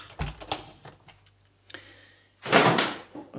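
A chair is dragged across the floor indoors with a loud scraping rasp, which follows some scattered knocks and light clatter at close range.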